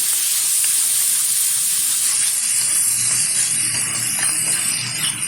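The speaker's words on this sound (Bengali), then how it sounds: "হালকা করে ভেজে নেব চিংড়ি মাছটা" Washed prawns with turmeric fry in hot oil, giving a loud, steady, close hiss of sizzling that holds evenly for a few seconds with no talking.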